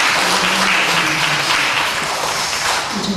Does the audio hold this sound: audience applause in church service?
yes